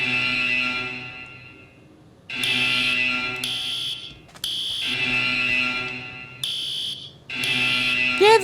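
Structure fire and prison alarms from a Minecraft alarms-and-sirens mod sound together in loud electronic bursts, stopping and restarting about five times with brief gaps, harsh and close, with no talk.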